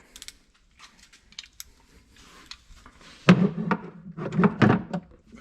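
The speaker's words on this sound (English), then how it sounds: "open your door back up." A Yamaha Wolverine side-by-side door is worked open after pin alignment, starting with faint small taps and clicks, then a loud close thunk of the latch and a few more heavy knocks and rattles.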